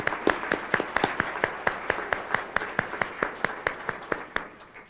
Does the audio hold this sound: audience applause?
yes